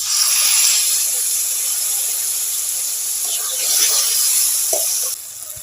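Water poured into chopped tomatoes frying with spices in a pan sets off a loud, steady hiss and sizzle that holds for about five seconds, then drops away sharply.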